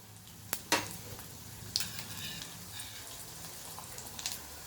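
Spice mixture of sesame seeds, coconut powder, chili powder and salt frying in a pan for vada pav, a faint steady sizzle with occasional sharp clicks of a utensil against the pan.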